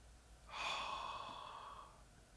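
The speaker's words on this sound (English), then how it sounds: "Continue breathing in and holding and breathing out." Slow, deep breathing during a guided relaxation meditation: one soft, airy exhale swells and fades over about a second and a half, close and quiet, with no voice over it.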